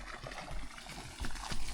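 Pumped water from an electric farm motor pours into an open well used for drip irrigation, giving a steady, fairly faint rushing splash that swells slightly toward the end.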